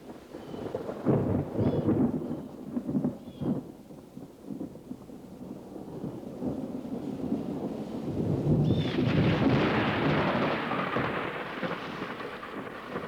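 A Florida thunderstorm rolls through with deep, rumbling thunder peals over steady rain, the booms swelling and fading, then a heavier downpour and wind building in the second half, all at a moderate distance.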